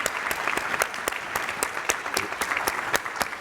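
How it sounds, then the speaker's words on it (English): Conference attendees clap for the speakers at the close of a session, a modest crowd with a few loud individual claps standing out over the steady patter. "Have a round of applause for our speakers."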